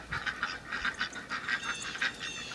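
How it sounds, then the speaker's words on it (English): Ducks quack repeatedly outdoors during a snowfall, giving a fairly faint, irregular series of nasal calls at a moderate distance with no one speaking. "Hear the ducks quacking."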